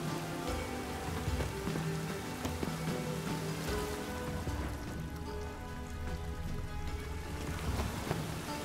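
Steady rain drumming on surfaces, a dense continuous patter that holds at an even level throughout, close and fairly loud with no voices.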